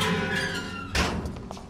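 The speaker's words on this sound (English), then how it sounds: "Just opening the door, just in case." A door in the dark Victorian horror game Vampyr, set in Whitechapel, swings open with a single dull thud and a short creak, heard alone over a low ambient background.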